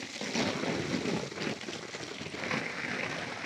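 Water sprayed onto a tent to simulate light rain, a steady broadband hiss with faint patter, continuous and close for the whole stretch.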